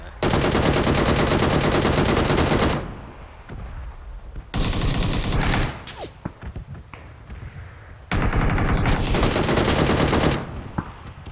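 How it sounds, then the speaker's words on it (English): Gunfire in the video game PUBG: long bursts of loud, rapid automatic fire alternating with quieter stretches of scattered single shots, thuds and movement. "I'm getting shot at, man."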